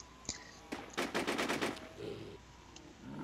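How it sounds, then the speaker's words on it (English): Gunfire in the zombie survival video game Infestation, a quick burst of rapid automatic shots after a couple of single cracks, fairly faint and distant-sounding. "Gunshot? I heard that."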